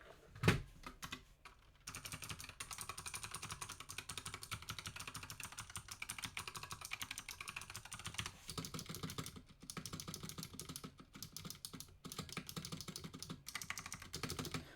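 Close keystrokes from a Razer Huntsman Mini mechanical keyboard on a desk, a dense, continuous run of fast clicky typing that follows a single thump at the start, with only brief gaps.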